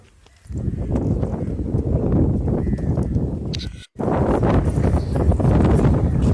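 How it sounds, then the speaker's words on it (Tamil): Strong wind blows across an open village farm field beside blackgram plants and palm trees, a loud steady buffeting roar against the microphone with a brief dropout partway through, no voices. "நல்லா காத்து சூப்பராக அடிக்குதுங்க"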